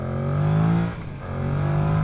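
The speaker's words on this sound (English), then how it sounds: "so you feel more like revving it out" A Yamaha MT-07 motorcycle engine revs up, dips briefly, then climbs again, close and loud.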